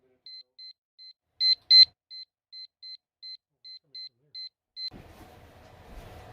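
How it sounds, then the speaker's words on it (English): The countdown timer on a Masterbuilt grill cooking cedar-plank salmon gives a long series of short, evenly spaced high beeps, loud and close, with two slightly longer ones early on, before it stops and faint background noise follows. "My little countdown timer here is what I'm waiting for."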